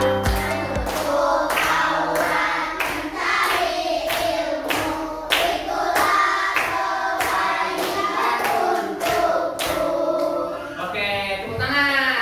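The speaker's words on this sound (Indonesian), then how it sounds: "Oke, tepuk tangan." Children in a classroom clap their hands together in a loud, steady, rhythmic run of sharp claps close by, keeping time throughout as if accompanying a song.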